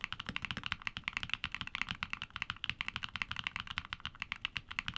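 Keygeek mechanical keyboard switches with a nylon-UPE blend top housing and proprietary bottom housing are typed on in a steady, fast stream of close, soft, low-pitched clacks, alone without talk.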